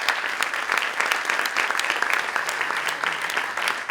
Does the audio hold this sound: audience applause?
yes